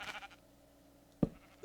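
Sheep bleating in the Minecraft video game: one short, fairly loud bleat near the start, then a low steady tone, and two more brief bleats, a blunt one and a sharp one, at the end.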